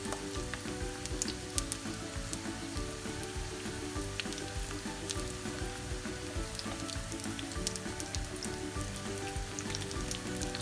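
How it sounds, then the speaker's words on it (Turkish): Lamb shank frying in a pan for Yozgat-style topalak stew, sizzling loudly and steadily throughout, with a dense crackle of fat popping up close and no voices. "Daha güzel kızarmamış, incik daha kızarsın."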